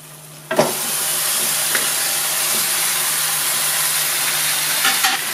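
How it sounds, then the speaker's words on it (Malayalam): Chicken going into a hot pan for Thalassery-style chicken biryani, with a stir at the start, then a steady, loud sizzling and hissing fry that carries on throughout. "ഇനി ചിക്കൻ ഇട്ട് ഇളക്കാം."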